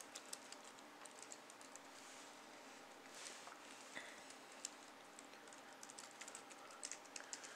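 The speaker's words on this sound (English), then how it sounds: "the angle I'm typing at is kind of awkward" Rapid, uneven keystrokes on a computer keyboard while entering DOS commands to install Windows 2, typed at an awkward angle. The clicks are close and steady against a faint background hiss, with no talking.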